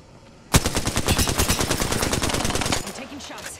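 Rapid automatic gunfire from Apex Legends bursts in suddenly and keeps going as a loud, close, steady rattle for about two seconds before dropping to a quieter tail.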